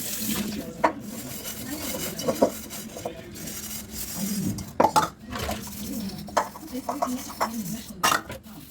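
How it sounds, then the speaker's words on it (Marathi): Dishes, pots and pans washed under a running kitchen tap, with steady flowing water and frequent clattering clanks of metal utensils and cutlery at close range, continuing throughout. "भांडे पटापट धुवायला घेतले"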